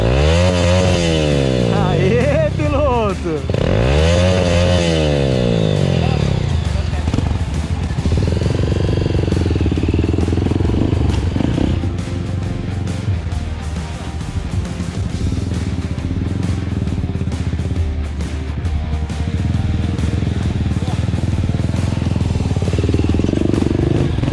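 A motorcycle engine revs hard on a dirt trail with a young child aboard. The engine is loud and close, rising and falling in pitch as it accelerates for the whole stretch.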